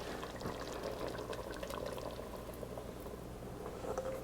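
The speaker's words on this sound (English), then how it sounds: "Now we'll add our puree back." Potato puree goes back into a lightly simmering creamy loaded potato soup, a quiet, close, thick pouring and bubbling sound with soft glugs and liquid splats over a low steady background.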